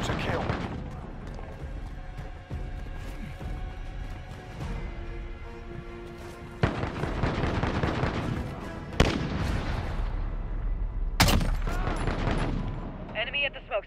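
Automatic gunfire and blasts from a video game shootout, dense and loud throughout, with repeated sharp bursts and heavier explosive hits, voices mixed in under the shooting.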